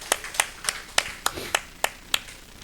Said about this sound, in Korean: 우리 마리아 목장을 위해 박수로 축복하겠습니다.